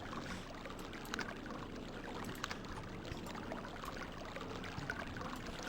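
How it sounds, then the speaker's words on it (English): Steady flowing water in the video game Myst, a continuous broadband rush with faint trickling detail running evenly throughout, with no speech. "Sound of water."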